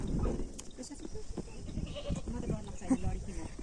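Goats bleating in a goat shed in Kanyam, their calls coming close and repeated over a background of people talking.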